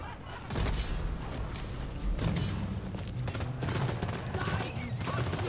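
Rapid gunfire in the video game Deep Rock Galactic, dense and continuous throughout, with a steady wash of shots and thuds mixed with other game sounds.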